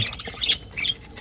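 A budgerigar gives a few short, sharp squawks in quick succession, close by and fairly loud, in a bird-breeding setup.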